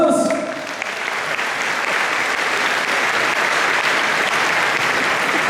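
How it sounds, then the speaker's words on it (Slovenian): Sustained audience applause for an accordion orchestra on stage at a live concert, a dense steady wash of clapping that builds quickly and holds loud and even throughout, with a brief voice at the very start. "dajmo en močen aplavz"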